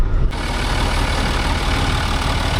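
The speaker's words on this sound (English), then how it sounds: "This sounds like a beautiful engine." A Land Rover engine idles steadily after a mountain drive, a low continuous rumble close by with no talk over it.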